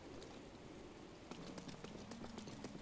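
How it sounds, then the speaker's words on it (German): Steady rain falls in The Legend of Zelda: Breath of the Wild, a constant soft wash of patter. About halfway through, a run of rhythmic knocking joins it. "Obwohl hier regnet es"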